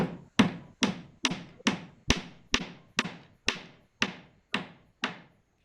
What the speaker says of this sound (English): after pounding it in there, after getting the filler piece in the hole